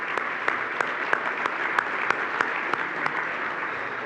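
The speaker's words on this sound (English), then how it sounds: "that's worthy of an applause" An audience at the 2018 Bay County Chamber dinner applauds in a steady, moderately loud wash of clapping, with a few sharper claps standing out at a regular pulse throughout.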